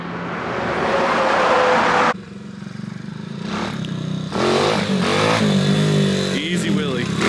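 A 125cc Chinese pit bike engine runs loud and steady, revving up through a high whine with a brief dip partway, and a voice talks over it now and then.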